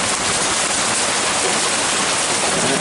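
A steady, loud, dense patter of hail and rain in an Eastern Kentucky hailstorm, a continuous hiss of pellets striking surfaces close by with no pauses.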